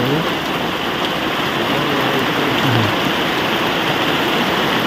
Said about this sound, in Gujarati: આપણે વરસાદ ચાલુ થયો